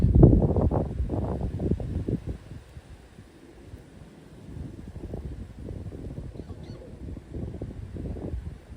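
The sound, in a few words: wind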